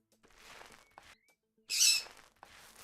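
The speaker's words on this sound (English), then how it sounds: "You hear my bird?" A pet bird lets out a sharp, loud call in the middle, with softer chirps before and after, close by and heard alone.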